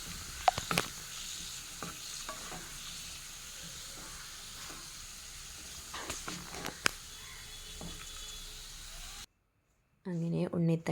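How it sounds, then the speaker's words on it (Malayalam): Banana stem stir-fry with mustard seeds, chilli and curry leaves being stirred in a pan: a soft continuous sizzle with scattered spoon scrapes and clinks, then a brief silence and a short snatch of voice at the end. "ഈ കടുകും മുളകും കറിവേപ്പിലയും എല്ലാം ഈ ഉണ്ണിത്തണ്ടിൽ നല്ലോണം യോജിക്കും വിധം ഇതൊന്ന് മിക്സ് ചെയ്തെടുക്കുക"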